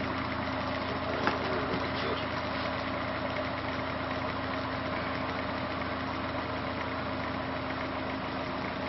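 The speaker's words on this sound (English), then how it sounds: "I'm going to put that current, make that motor run" Small DC motor run on current from a coil setup, giving a steady mechanical whir with a constant hum that holds evenly throughout, moderately loud and alone.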